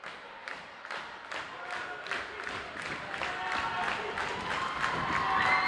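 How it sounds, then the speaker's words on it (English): Girls high school volleyball crowd cheering for the St. Clair team, a sustained roar of voices with scattered clapping and thumps that swells steadily louder, heard from across the gym. "a vocal St. Clair crowd cheering the ladies on here to finish up"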